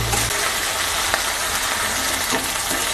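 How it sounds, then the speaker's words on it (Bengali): Onion, ginger and garlic paste frying in a pan for fish curry, a steady close sizzle with a few small clinks of a spoon against the pan. "পেঁয়াজ আদা রসুন পেস্ট ভাজা হয়ে এসেছে"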